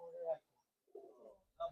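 A racing pigeon coos in short, soft bursts up close, three throaty calls separated by brief pauses.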